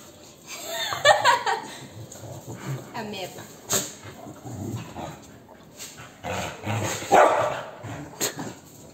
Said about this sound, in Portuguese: Cachorro tongo.